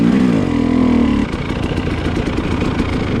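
Dirt bike engine riding through soft snow in the woods, a close, loud revving drone that drops into a rough, sputtering chug.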